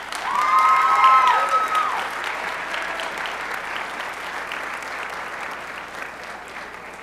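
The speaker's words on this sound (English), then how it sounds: "Give them a round of applause." Audience applause at a high school senior academic awards assembly, a sustained dense patter of many hands that swells early and then gradually tapers, with a brief whistle-like tone near the start.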